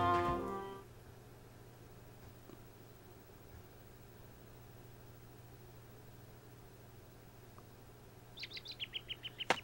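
Birds chirp in the video game Harukanaru Toki no Naka de 4, a quick series of bright, rhythmic tweets near the end over a faint steady hum, after a brief musical tone at the start.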